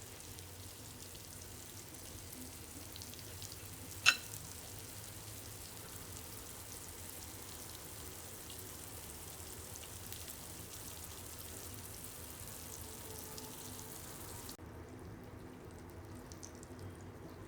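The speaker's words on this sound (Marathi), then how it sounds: "आता या तव्यावर राहतील साधारण तेवढे मी माशाचे तुकडे सोडते." Pieces of halwa (black pomfret) fish frying on a hot tawa, making a faint, steady sizzle that runs throughout with one brief sharp click near the start and no voices.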